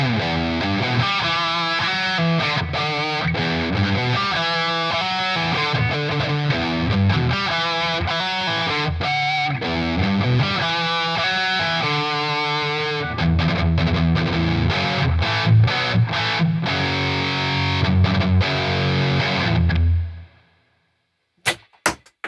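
A heavily distorted Ibanez Iceman IC420 electric guitar, bridge pickup through a high-gain lead channel with reverb, plays a fast lead line for about twenty seconds, then cuts out abruptly, leaving a few faint clicks.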